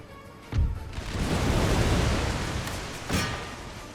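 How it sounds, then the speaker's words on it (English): Grenades burst among cannons in an Empire: Total War battle, a sharp pop followed by a broad rolling boom that swells and fades, then another short burst near the end, with no talking. "we got grenades in among the cannons"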